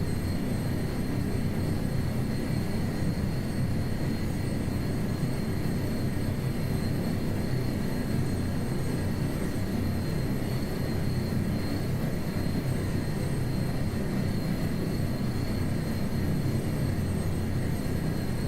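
A heavy helicopter lifting off in MSFS 2024, a loud, unbroken engine and rotor roar with steady whining tones, constant in level throughout and heard alone.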